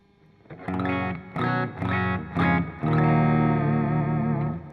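Electric guitar played through a Line 6 HX Effects plate reverb: a few loud, slightly distorted strummed chords, then a long ringing chord with a wet, lingering reverb tail, no voices.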